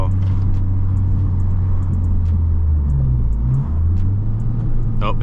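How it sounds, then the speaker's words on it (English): A Honda Civic Type R engine drones steadily from inside the cabin while driving in second gear, with a loud low rumble and a brief shift in pitch midway through. "See if we can get some engine noise as well."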